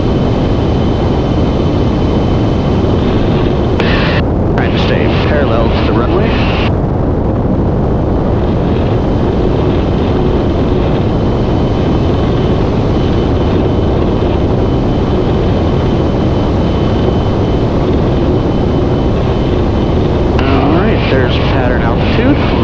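A light aircraft engine drones loudly and continuously from inside the cockpit during a flight lesson, a steady roar with wind rush and brief voices from the headset over it.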